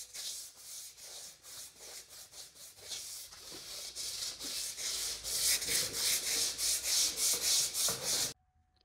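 Body filler is block sanded by hand with 120 grit sandpaper, giving steady rhythmic rasping back-and-forth strokes that grow louder and faster partway through, close up with no voices, then stop abruptly.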